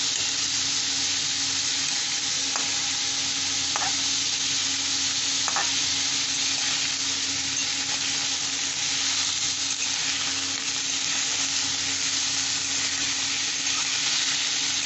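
Watermelon rind and shrimp sauté in a pan over medium heat with a dense, continuous sizzle that stays loud and even throughout, with a few faint scrapes of stirring and no voices.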